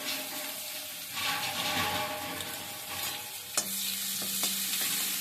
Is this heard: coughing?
no